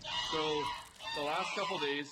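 Geese honking inside a barn, a chatty flock giving repeated nasal honks that rise and fall close by, running continuously under and between a man's speech.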